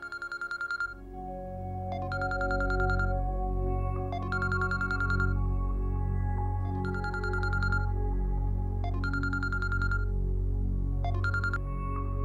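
A mobile phone ringtone rings repeatedly in bursts of a bright electronic tone, about every two seconds, loud and steady over a low background hum, with no talking.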